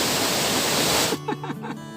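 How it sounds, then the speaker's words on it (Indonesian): A three-tiered waterfall at Baruttung Gollae in Pangkep roars as a loud, dense rush for about a second, then cuts off abruptly as voices take over. "Dan air terjun ini memiliki 3 tingkat."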